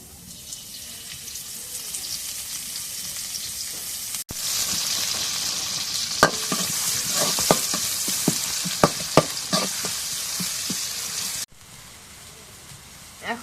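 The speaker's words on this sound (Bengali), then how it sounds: "কড়াই পেঁয়াজ কুচি দিয়ে দিই এখন তেল দিয়ে দিই এখন" Chopped onions hit hot oil in a wok and sizzle loudly and steadily, with clinks of a stirring utensil scattered through the frying.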